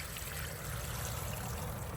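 Water trickles and drains steadily as apple pulp is strained, a close, continuous, soft liquid rush.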